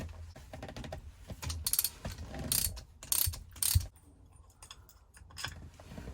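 Shifter bolts on a T5 transmission are loosened with a ratchet, giving bursts of quick clicking ratchet strokes between pauses, close and moderately loud.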